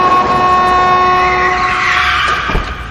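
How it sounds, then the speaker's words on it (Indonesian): A car nearly hits a girl in a film scene: a loud, sustained horn-like tone and rushing engine noise, ending in a short impact-like thud. "Tiba-tiba dia hampir tertabrak mobil."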